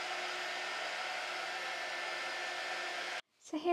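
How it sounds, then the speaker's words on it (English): A hot air gun blowing on wet paint on an Easter craft piece gives a steady close hiss of rushing air for about three seconds, then cuts off abruptly, followed by a brief faint voice. "I'm going to use my hot air gun to dry this just to speed the process up."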